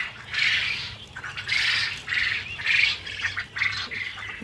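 Caged quail on a poultry setup calling in repeated squawking bursts, about five loud close calls at a steady rhythm with short gaps, over a low background hum.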